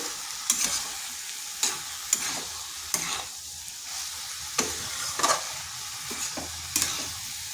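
Shredded cabbage frying with spices in a pan for a Bengali vegetarian dish with soybean, stirred repeatedly: a steady sizzle punctuated by sharp scraping spatula strokes at irregular intervals, close and fairly loud, no talking.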